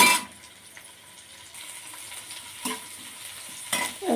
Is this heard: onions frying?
yes